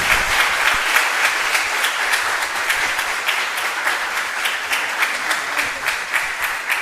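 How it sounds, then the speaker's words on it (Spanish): Audience at an accounting seminar applauding: steady, dense clapping from a sizable crowd, loud and sustained for several seconds with no talk over it. "me gustaría que les brinden unos muy fuertes aplausos"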